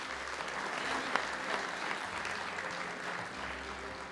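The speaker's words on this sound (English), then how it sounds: "So a big round of applause also for the photographer" Steady audience applause at an aircraft delivery ceremony for a Qatar Airways A350-1000, a fairly quiet, continuous patter of many hands clapping from a distance.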